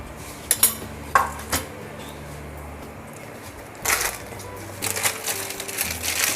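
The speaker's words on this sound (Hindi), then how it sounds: "कसूरी मेथी को ऐसे क्रश करके हम ऐड करेंगे" Dried fenugreek leaves (kasuri methi) being crushed by hand over a pan of cashew and makhana curry: a few brief, crisp crackling bursts near the start, then a denser crunch of rustling pops toward the end, close and fairly quiet.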